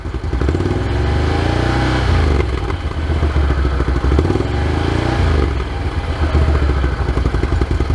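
A Can-Am Renegade XMR 1000r ATV fitted with an SLG Sniper exhaust revs loudly from about a meter away, the engine note rising and falling through several swells with a deep, rumbling exhaust tone and some clatter.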